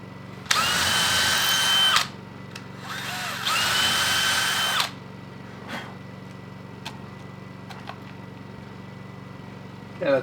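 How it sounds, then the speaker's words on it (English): A power drill drives screws and bores holes while work continues on an off-grid solar and generator building, two long loud bursts close by and then a few brief faint clicks and taps. "I'm going to drill holes and I'm going to screw that down"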